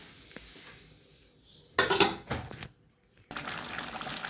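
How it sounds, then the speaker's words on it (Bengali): A metal lid is lifted off a cooking pot of simmering chicken curry, giving a clattering scrape and clink of metal followed by steady sizzling and bubbling, all fairly close in a quiet kitchen. "এই যে ঢাকনা খুলে দেখে নিচ্ছি।"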